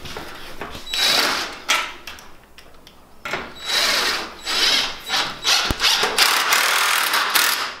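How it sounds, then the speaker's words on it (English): A power drill drives a screw into the end frame of a modular production cutting table, with several bursts of whirring and clicking mechanism noise close by and no talk. "And just to screw it with the same screw."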